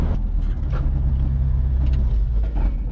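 A car engine idling and rumbling close by in a fab shop, rising briefly in a few short revs over a steady low drone, with no one talking.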